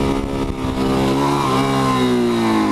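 A DRZ400SM supermoto motorcycle climbs a small uphill road at about 20 mph, its single-cylinder engine droning loud and close with steady, slightly rising revs and no talk.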